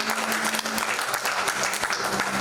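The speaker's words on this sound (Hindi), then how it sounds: "एक बार जोरदार ताली से मैं कहूँगा आप लोग।" Audience at a Hindi drama event staged by a foundation gives loud, dense applause, a continuous close wash of clapping throughout the brief moment.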